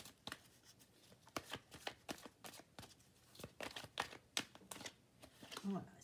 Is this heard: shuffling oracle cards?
yes